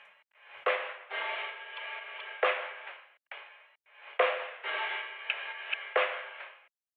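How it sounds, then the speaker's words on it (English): Drum break made from a drum contact sample bank with no effects, playing as a sparse pattern of sharp struck hits with short ringing decays and brief gaps, loud and alone without talk. "So next we have this drum break right here,"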